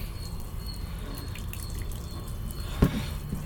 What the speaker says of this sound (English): just add a bit more water into it